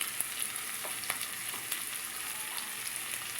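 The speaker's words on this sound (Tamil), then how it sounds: "ஆனியன் நல்லா ஃப்ரை ஆகிடுச்சுப்பா" Onion frying in a tempering of mustard seeds, urad dal and curry leaves for a cluster bean poriyal, a steady close sizzle with faint crackles and the odd stir, no talking.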